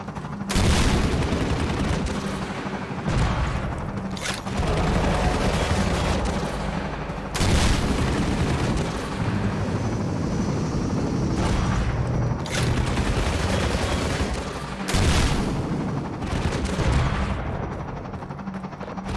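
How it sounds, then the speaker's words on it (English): Dense, loud gunfire and heavy blasts from Half-Life 2, modded, on the Highway 17 level, with repeated bursts and booming impacts nearly continuous across the whole stretch, no speech over it. "I know I have to shoot at it, but I need to not get shot by it in the process."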